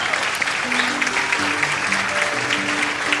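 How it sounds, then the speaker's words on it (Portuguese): An audience breaks into sustained applause of gratitude, many hands clapping in a dense, even wash that holds steady with murmured voices underneath. "dê a eles uma grande salva de palmas de gratidão"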